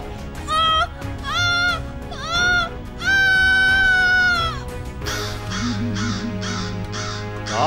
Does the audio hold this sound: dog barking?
no